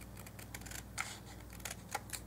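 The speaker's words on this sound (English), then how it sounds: "I'm going to cut that last edge just with scissors." Scissors snip through the last edge of paper for a garden-set craft, making a few crisp, short cuts spaced about a second apart. The cuts are close and quiet over a faint steady background hum.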